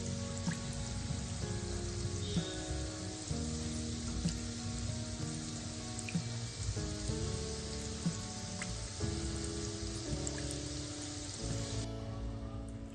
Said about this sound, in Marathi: तुम्ही बघू शकता जसे जसे ते तळायला लागले ते वरती हलके होतात आणि वरती येतात तेलाच्या